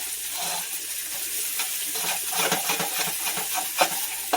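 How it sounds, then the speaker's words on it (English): A utensil scrapes the browned bits left from frying chicken off a skillet, making a steady stirring and scraping noise over a soft sizzle, close by and continuous with no talking. "I'm going to go ahead and scrape up all the stuff from frying the chicken off of the skillet"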